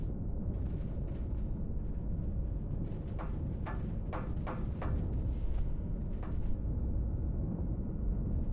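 Pirate ships trade fire in a space battle in the game X Rebirth, a steady low rumble broken by a cluster of sharp, crackling blasts in the middle and a few more later, all mid-distance and continuous.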